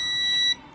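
Multimeter set to its continuity beep range, emitting a steady electronic tone for about half a second before it cuts off, close and clear with no talking.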